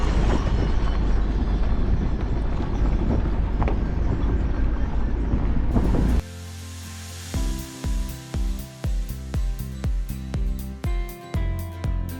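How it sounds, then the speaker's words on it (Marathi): The Mandovi Express on the Konkan Railway first roars past as a loud continuous rush, then gives way to a rhythmic run of sharp wheel clacks over the rail joints as the carriages roll by. "एक ट्रेन आली आहे दुपारची मांडवी मांडवी एक्सप्रेस असेल"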